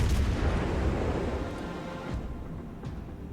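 Heavy naval gunfire booms out from a warship in the World of Warships Legends game, a loud low rumble at the start fading into softer distant blasts, with no talk.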